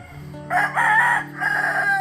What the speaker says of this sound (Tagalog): Yan yung mga alaga natin manok oh.